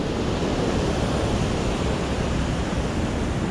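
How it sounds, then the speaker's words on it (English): Floodwater pours over a dam waterfall in Damascus, Virginia, after flash floods, making a loud, steady, broadband roar that fills the whole clip without a break and with no one speaking. "I want you to look at the waterfall right here, the dam, whatever you want to call it. I have never seen this much water in here."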